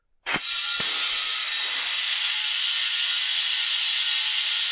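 Air rushes from a compressor into a portable air tank, beginning with a sudden sharp burst and settling into a steady, loud, close hiss that holds without a break.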